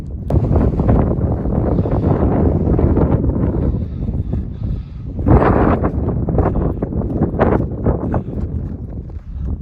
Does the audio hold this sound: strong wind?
yes